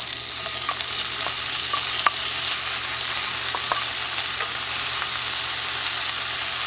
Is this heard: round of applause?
no